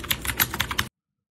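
Close, crisp clacking from typing on a computer keyboard, as in an ASMR clip: about half a dozen quick, irregular key strikes, then it stops abruptly into silence. No talking over it.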